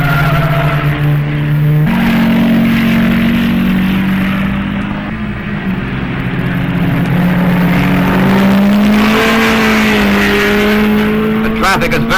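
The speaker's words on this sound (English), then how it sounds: "Note the car is going up the straightaway in the background." Old 1958 race cars roar along a straightaway at Road America, a loud steady engine drone rising in pitch as they accelerate, with speech likely mixed underneath.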